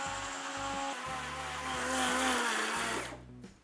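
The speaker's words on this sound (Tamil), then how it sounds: "ஒரு பேஸ்ட்டை அரைக்க போகிறோம். எதில் அரைக்க போகிறோம்? என் பெஸ்ட் ஃப்ரெண்டு பிரீத்தி காஸ்மோ" A Preethi Cosmo Zodiac mixer grinder runs loud and close while grinding a paste, a steady whirring hum that pulses in short bursts, then revs up and cuts off.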